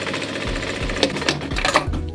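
A sewing machine runs a zigzag stitch through soft hoodie fabric, giving a steady close whirring patter in short bursts separated by brief pauses and small clicks, with no talking.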